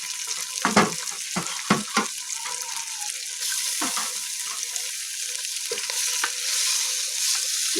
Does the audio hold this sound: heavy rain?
no